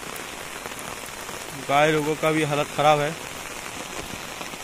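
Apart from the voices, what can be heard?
rain falling on a village field in Bihar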